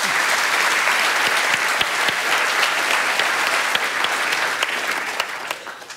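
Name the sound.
audience applause welcoming a speaker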